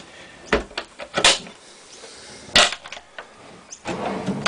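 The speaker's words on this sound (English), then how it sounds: "We've got drawers in here with all that is required." Drawers in a motorhome slide open and shut, giving several sharp wooden knocks and thuds with rattling runners in quick irregular succession, close by and with no talking.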